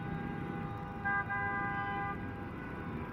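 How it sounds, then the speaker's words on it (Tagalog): Heavy traffic crawls along EDSA in Pasay, a low steady roadway rumble in which a car horn gives a single sustained toot near the middle, moderately distant. "So matindi po ang traffic ngayon dito sa EDSA tough."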